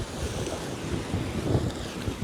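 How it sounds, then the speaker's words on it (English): Ocean surf and wind along the Sydney coast: a steady, close wash of breaking waves with wind buffeting the microphone, continuous for the whole stretch and with no voices. "just to sit and think and just listen to the waves"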